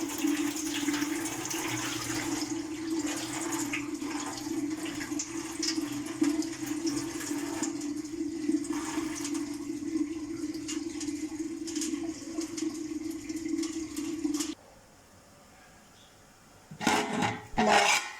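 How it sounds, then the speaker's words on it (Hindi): Water drained from a pot of boiled water pours steadily for a long stretch, a continuous splashing rush that cuts off abruptly, followed by a brief clatter. "अब मैं इसका पानी उतार लेती हूँ।"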